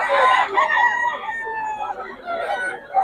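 A rooster crows in a long, wavering call, with other fowl and voices mixed in around it, fairly close.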